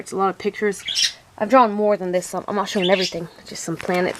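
Pet birds squawk in a room behind a person talking close to the mic, with sharp, brief calls popping up between and under the speech.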